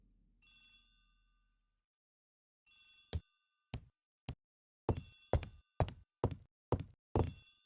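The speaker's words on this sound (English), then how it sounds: "The telephone in the hall is ringing." An old-style telephone bell rings in a hallway within an Agatha Christie ABC Murders mystery video game, a brief trill followed by a series of sharp, repeated bell bursts, fairly close and clear with no talking over it.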